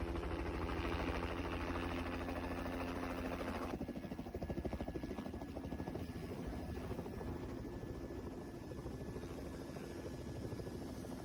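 A helicopter's rotor chops in a fast, steady rhythm alongside a droning engine, loud and continuous, with no voices.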